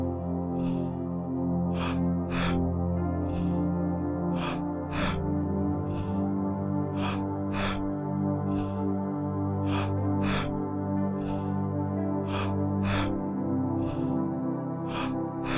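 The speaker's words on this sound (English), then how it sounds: "So keep breathing." Deep, forceful breathing during a guided breathwork class: sharp breaths repeat in quick pairs at a steady rhythm for the whole stretch, close to the microphone and set over continuous soft ambient music.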